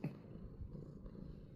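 A cat purrs softly and steadily at close range, a low continuous rumble with faint rhythmic pulses and no voices.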